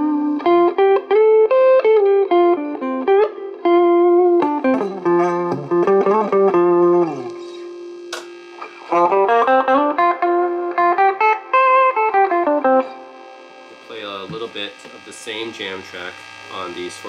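Electric guitar played through a Fender Atomic Jr. 5-watt Class A tube amp with built-in spring reverb, chordal phrases and sustained notes ringing out with reverb tails, a short pause midway and quieter picking near the end.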